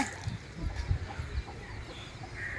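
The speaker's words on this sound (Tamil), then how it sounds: "கற்பாய் குஞ்சு பொறிச்சிருக்க பார்த்தீங்களா இல்லையா" Hens cluck in short, low bursts around a brood of newly hatched chicks, close by and fairly quiet, with no talking over them.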